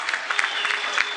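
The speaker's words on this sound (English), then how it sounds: "And Max Finlaw will check out to a huge round of applause" A crowd at a high school boys basketball game claps in steady, dense applause that stays at an even level throughout, heard from a distance.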